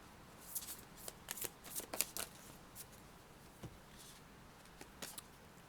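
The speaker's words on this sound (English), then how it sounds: "we're going to pull a moon card here for this past energy" Moon oracle cards are shuffled and pulled, making soft, close riffling and flicking bursts that cluster early and then thin to a few quiet slides and snaps.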